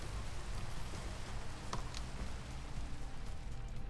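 Heavy pouring rain in a Minecraft map gives a steady, dense wash of hiss with a few brief brighter ticks, constant throughout and with no voices.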